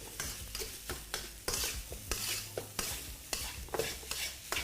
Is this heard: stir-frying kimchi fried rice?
yes